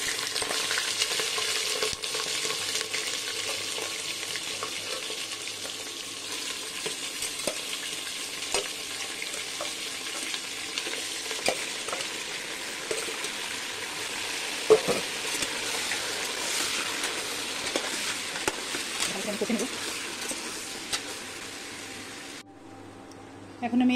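Mutton frying in a pan for mutton korma, a steady broad sizzle running throughout with occasional stirring clatters, close and fairly loud, then cutting off near the end.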